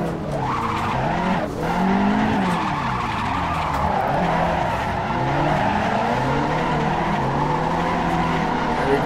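A Nissan S13 drifts in Assetto Corsa on the Bihoku track, its engine droning loud and steady while tires squeal continuously through the slide, with shifting pitch from the revs.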